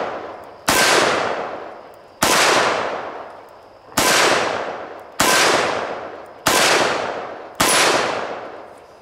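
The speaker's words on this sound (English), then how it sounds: "That was the 357 Magnum, by the way." Six loud, close .357 Magnum shots from a Taurus Raging Hunter revolver, fired double action at a steady pace about one and a half seconds apart, each sharp crack trailing into a long ringing decay.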